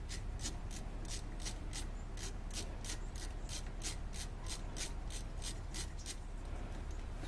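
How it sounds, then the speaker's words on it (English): A ratchet clicks steadily while a socket on a locking extension tightens a bolt during brake work on a 2005 Honda Odyssey, with quiet, evenly spaced clicks repeating alone throughout. "It's a locking extension, so that way the socket doesn't pull out, which is really cool. Then you just tighten it."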